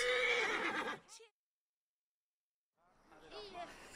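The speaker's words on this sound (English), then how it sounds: "Of course, you named your horse Pegasus" A horse in the video game Assassin's Creed Origins whinnies with a shaky, descending neigh, then a pause of silence before a second softer whinny returns.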